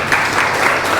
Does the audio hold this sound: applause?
yes